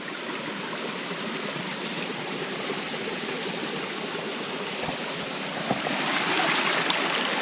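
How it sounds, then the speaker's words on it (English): Steady rushing, trickling river water flows continuously without a break, swelling slightly louder toward the end, with no voices. "Only sounds of the river trickling by."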